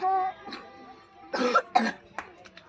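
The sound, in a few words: cough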